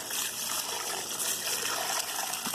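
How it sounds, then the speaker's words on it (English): Running water rinsing off a freshly butchered chicken, a steady close splashing gush that continues without a break for the whole stretch. "We're gonna go ahead and rinse this chicken off."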